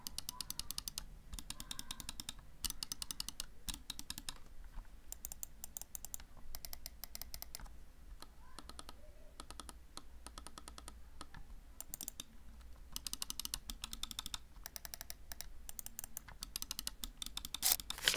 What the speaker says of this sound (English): was that the button clicks, especially the effort it takes to click the scroll wheel button